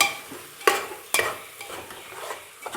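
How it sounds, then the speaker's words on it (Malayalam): Chilies and coriander powder being stirred in a cooking pot for chicken biryani, with a steady sizzle and two sharp spoon-scrapes against the pot, then lighter clinks. "അടിപൊളിയായിട്ട് ഇതെല്ലാം കൂടി ഒന്ന് മിക്സ് ചെയ്തെടുക്കണം"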